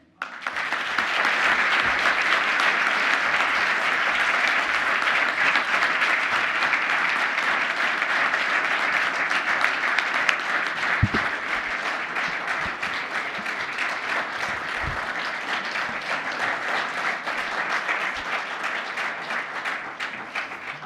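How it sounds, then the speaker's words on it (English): Broad, steady applause from a conference audience after a science presentation, filling the room evenly for about twenty seconds with a few louder claps standing out near the end. "It's really nice to get all of this applause."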